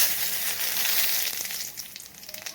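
Asafoetida and cumin hitting hot ghee in a pan, a loud dense crackling sizzle that settles into quieter, scattered popping after a second or so.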